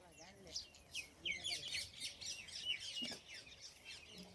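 Parrots raiding ripening wheat ears on a farm give a run of bright, high chirps and squawks, fairly close and repeated, over a faint rural background.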